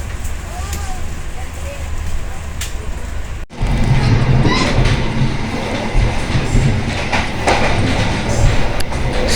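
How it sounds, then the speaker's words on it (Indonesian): A local non-electric commuter train rumbles steadily along the rails, a loud continuous roar with faint rattles and clicks throughout, briefly dipping before resuming at full strength; people talk faintly inside the carriage. "Kereta lokal."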